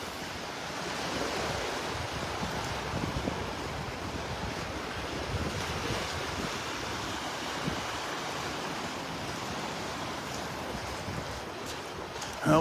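Waves wash steadily onto the beach at Delnor-Wiggins on a cool, breezy morning, a soft constant surf with wind rumbling across the microphone.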